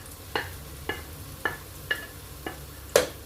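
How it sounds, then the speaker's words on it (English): Okra going into a frying pot of okra soup, with six separate clattering drops and stirring knocks, the last one loudest, over a low steady sizzle. "I'm going to be adding the okra"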